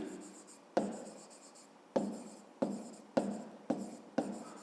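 Handwriting on paper during a maths exercise: scratchy pen strokes come in several separate bursts, each starting sharply and trailing off, close and fairly clear, with no talk over them.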